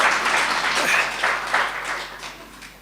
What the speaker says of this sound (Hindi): भाई लोग ताली बजा दो माताओं के लिए